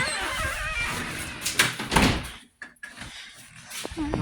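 A door opens in a workshop during an old lawnmower restoration, with a few clunks and a sliding rattle under ongoing talk and short pauses.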